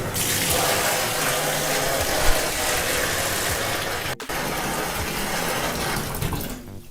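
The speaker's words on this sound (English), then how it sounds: "So now we're going to fill up the tub and start" A tap runs steadily, filling a tub with water for washing scuba gear, a loud continuous broadband rush with one brief dropout near the end and no talking.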